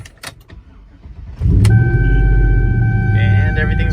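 A Chevrolet Tahoe GMT800 is started with a new flip key. After a quiet moment with faint handling noise, the engine cranks, catches and settles into a loud, steady idle.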